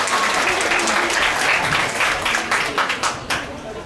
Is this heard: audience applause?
yes